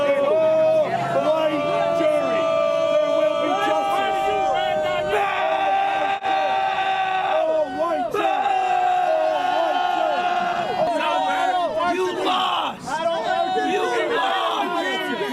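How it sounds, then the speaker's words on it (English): Dueling protest crowds outside a murder trial, a dense roar of shouting, chanting and whooping voices that keeps up without a break, loud and close. "dueling crowds on both sides making their voices heard"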